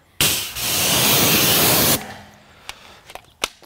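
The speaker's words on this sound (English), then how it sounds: "Now this is a rear wheel. I'm going to rinse this one off." A water spray rinses a car's rear wheel in one loud, close, steady hiss lasting nearly two seconds, then cuts off, leaving a few faint drips and small clicks.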